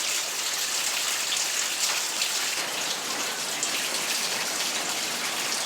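Antifreeze coolant drains from a Duramax diesel truck in a steady, unbroken rushing splash, like a stream of liquid pouring into a catch pan, close and constant throughout.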